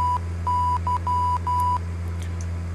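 A Morse code beacon identifier from a flight simulator game plays as clear, steady electronic beeps in a short sequence of dashes and dots over a constant low hum.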